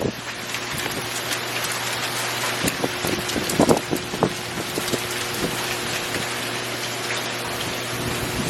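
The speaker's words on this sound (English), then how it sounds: "It is like hailing, serious hail." Heavy hail comes down outside a house, a continuous rushing patter dotted with sharp, scattered impacts that cluster more densely midway through; no voices.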